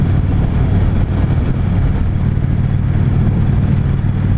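A 2016 Indian Chief Dark Horse motorcycle pulls hard under acceleration, a loud, dense engine roar blended with rushing wind noise, constant and close throughout.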